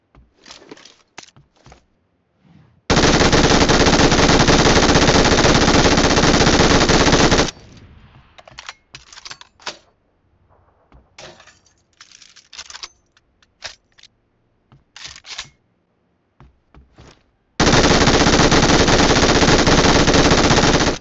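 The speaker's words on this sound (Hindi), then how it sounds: "इस बंदे को पता है कि मैं इसकी बीआरडीएम पे फायर कर रहा हूँ" Bursts of automatic gunfire in PUBG aimed at an armored BRDM vehicle, two long sustained loud volleys separated by a stretch of short scattered shots and quieter gaps.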